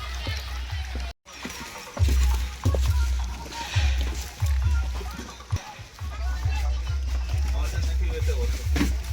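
A boat arrives at a mangrove boating point at Bichitrapur. A low, throbbing engine rumble pulses steadily beneath nearby voices and outdoor noise.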